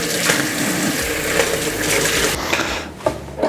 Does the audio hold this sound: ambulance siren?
no